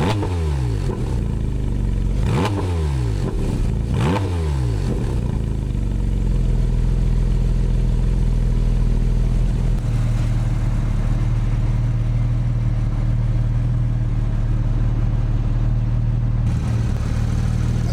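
Porsche 718 Cayman GT4 RS flat-six gives three quick, loud revs early on, then settles into a steady close drone held near the soft limiter; no talking.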